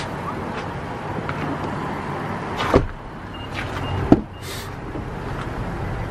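A rear door of a 2019 Infiniti QX60 SUV opens with a brief click and later shuts with a solid thump, heard against a steady background hum with no talk.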